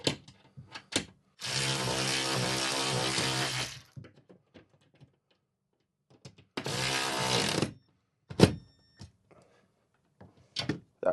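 A ratcheting wrench tightens a bracket for a 4x8 overhead garage storage rack, heard as two close, loud bursts of rapid ratcheting amid scattered clanks and knocks, with quiet gaps between.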